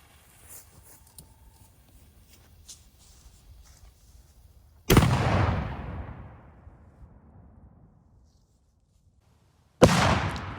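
A cannon fires a 3D-printed cannonball at a freezer outdoors, one loud sharp blast followed by a long rolling decay, then a second abrupt bang near the end after a quiet stretch.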